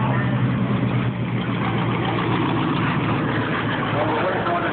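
Engines idle steadily at a county fair demolition derby arena, a dense continuous low rumble from several vehicles, loud and close, with voices mixed in while wrecked cars are towed away.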